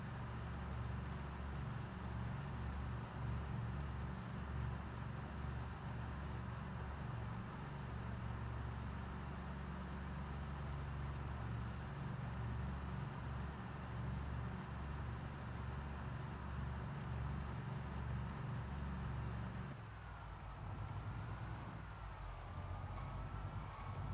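Cars rumbling past inside a first-person video game, a steady loud engine drone with layered low hum that runs continuously and drops away near the end; no talking.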